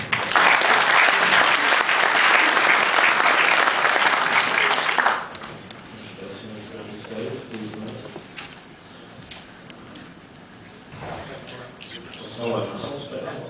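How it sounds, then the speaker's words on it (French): A conference audience claps loudly for a speaker at a digital marketing event, the applause cutting off abruptly after about five seconds, followed by quieter room murmur and a voice talking. "On peut l'applaudir bien fort."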